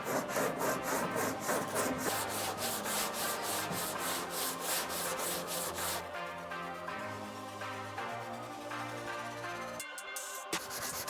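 Bondo body filler on a Tesla being sanded by hand, a steady run of rhythmic rasping strokes close up, with a brief knock near the end.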